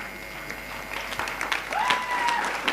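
An audience at a program event in Raipur breaks into applause, a moderate clatter of clapping that builds over a couple of seconds, with faint voices and a brief whistle mixed in.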